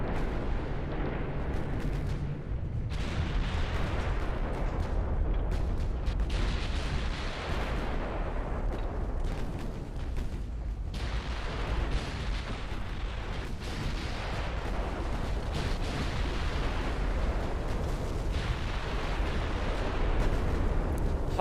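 Naval gunfire from warships in a video game, as a salvo hits a cruiser: a dense, continuous rumble of booming blasts that stays loud and close throughout, with no speech.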